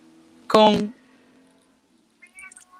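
A pet cat gives one loud, clear meow, followed by a faint short chirp a moment later. Quiet background hum fills the gaps.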